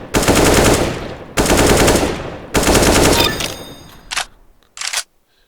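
Automatic weapon fire from the Recoil Master video game, loud sustained sprays in three bursts of roughly a second each, followed by two short separate bursts and silence.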